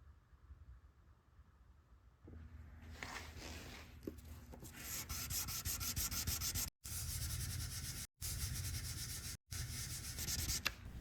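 Sanding works gouges out of the steel caseback of a Heuer Autavia watch, a close, steady abrasive rasp that starts softly and then runs in loud strokes broken by three short pauses.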